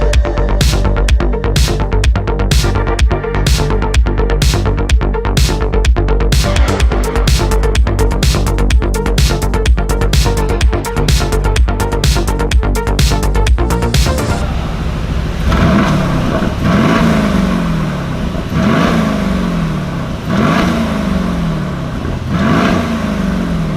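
A 2018 Aston Martin Vantage V8 with an Fi Valvetronic catback exhaust, first a steady rapid pulsing exhaust drone, then a shift to repeated rising-and-falling revs in a rhythmic pattern, loud and close.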